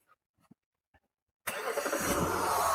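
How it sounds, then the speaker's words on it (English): A Mitsubishi car engine cranks and catches abruptly after a few faint clicks and knocks, settling into a steady close-up running rumble. "I'll just start the car and I'll show you what it quickly does."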